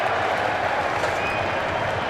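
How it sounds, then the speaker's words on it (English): A Twenty20 cricket crowd at a Glamorgan vs Somerset Vitality Blast match roars and applauds after a six, a dense, continuous wash of cheering heard from a distance. "The crowd are loving this."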